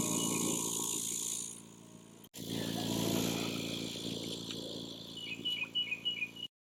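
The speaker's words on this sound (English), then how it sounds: "we're going to plug our pump in and see what it looks like" A 3/4 HP rocking piston pond aeration pump for 3-acre lakes, rated 5.76 CFM, runs with a steady low mechanical hum, briefly cut off once, while faint bird chirps sound toward the end.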